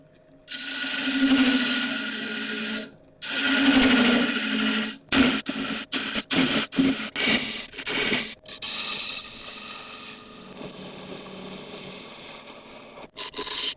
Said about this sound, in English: It's always tricky hollowing into end grain, but if we take it nice and slow